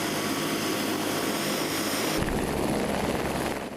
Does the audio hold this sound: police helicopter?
yes